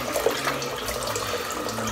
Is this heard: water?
yes